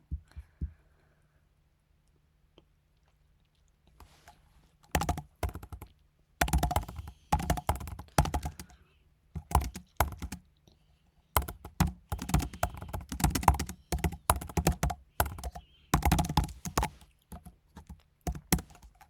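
Computer keyboard typing while writing code, heard as irregular bursts of quick clicking keystrokes with short pauses, fairly close and alone after a near-silent opening.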